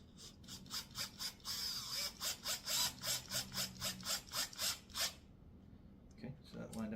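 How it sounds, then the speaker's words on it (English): A screw is driven into a wooden kids table with a ratcheting hand tool, making a quick run of crisp, regular clicks close by, followed by a few softer handling knocks. "And we're just going to screw that down."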